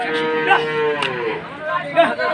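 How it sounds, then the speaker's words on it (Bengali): A cow at the Hazratpur cattle market gives a long, loud, close moo that rises and falls and then trails off, with faint market murmur underneath. "দর্শক এখানে একটা গরু আছে"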